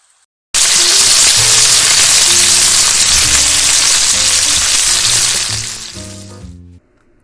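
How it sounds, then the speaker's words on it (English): Breakfast fries in a pan with a sudden loud, steady hiss and sizzle that starts abruptly after a short silence, then fades and cuts off near the end. "I'm going to cook my breakfast"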